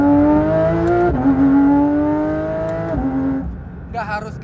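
A Porsche 911 GT3 RS engine pulls hard while driving, its strong, steady tone rising in pitch with two clear upshifts that briefly dip the note, loud and close throughout.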